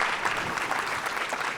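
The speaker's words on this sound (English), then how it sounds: "Can we get another round of applause for Matt?" Steady applause from a conference keynote audience, a dense wash of clapping that holds at even strength throughout, moderately loud.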